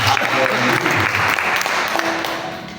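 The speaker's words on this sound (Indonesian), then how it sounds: "Kita berikan tepuk tangan kepada Tuhan" A church congregation at a Sunday evening worship service claps together, loud and sustained for about three seconds, with some voices mixed in and the clapping fading slightly at the end.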